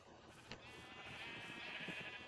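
Sheep in Minecraft bleat once faintly, a short wavering baa against a quiet background, with no talking.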